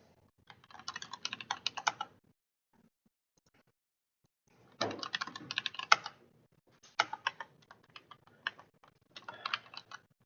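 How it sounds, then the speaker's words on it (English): Bursts of rapid keystrokes on a computer keyboard as a password is typed into a login form, three clusters of clicking separated by pauses, close and fairly quiet, with no talking. "I input the correct password"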